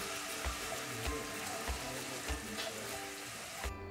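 Mushrooms sautéing in a pan with butter and wine, a quiet, even sizzle broken by soft regular taps of stirring, with a brief louder burst at the end and no talking.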